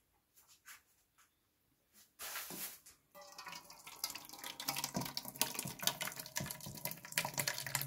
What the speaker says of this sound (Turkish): şimdi süzgeçten geçiriyoruz